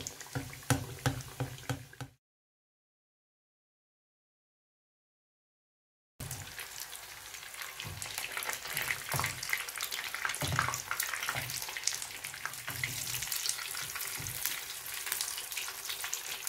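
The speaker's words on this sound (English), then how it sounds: "Now I'm gonna fry them." Oil sizzles and crackles steadily as samosas fry, broken by a few seconds of silence early on, then continuing unbroken at moderate level.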